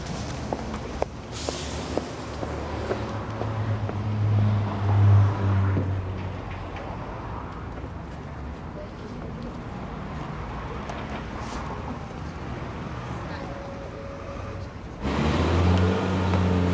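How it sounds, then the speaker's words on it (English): A taxi car passes along a street, a steady broadband road rumble with a low engine drone building near the start and again toward the end, loud and close, with no talk over it. "Oh, look, there's a taxi."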